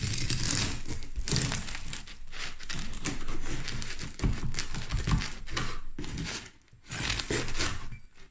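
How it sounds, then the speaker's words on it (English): Crisp, crackly crunching of a cooled sourdough loaf's crust being cut with a knife, dense irregular crackles running steadily throughout, close and fairly loud with no talking. "Listen to this crust. Oh. All right, let's cut it up."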